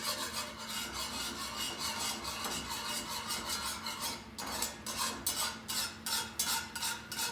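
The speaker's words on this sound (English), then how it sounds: "Look when I whisk through, see what's happening?" A whisk scrapes and rasps steadily through a thickening sauce in a pan, its strokes growing into distinct rhythmic swishes toward the end, close and moderately quiet with no talking.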